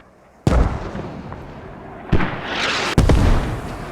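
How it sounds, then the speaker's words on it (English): Incoming mortar rounds in the military shooter game Squad: three heavy blasts, each a sharp crack with a deep rumble, land a second or two apart. A low battlefield roar fills the gaps. "Mortars coming in."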